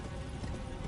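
Horse hooves clip-clop steadily in Elden Ring, a dense, continuous run of close, loud footfalls with no voices over them.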